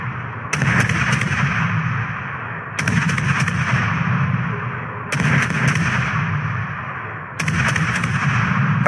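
Naval guns firing on a target in a video game, with four heavy booming salvos spaced a few seconds apart, each rolling and fading slowly before the next.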